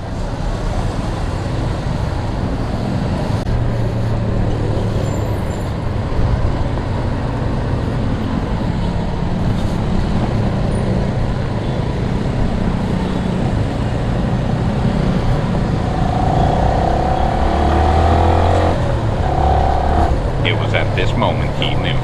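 A motorcycle rides along a road, its engine and wind noise forming a steady, fairly loud rush from up close, with a rider's voice talking over it at times.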